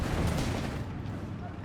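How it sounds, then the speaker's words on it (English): Panzer III 50mm gun and machine guns firing in Company of Heroes 3, a dense, continuous wash of distant gunfire and rumbling battle noise that thins slightly toward the end. "Panzer III letting loose here. It's 50mm gun,"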